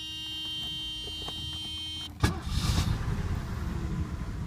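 A Mercedes with a push-button start fires up after a steady electrical hum and chime, the engine catching with a sharp burst and settling into a loud, close idle.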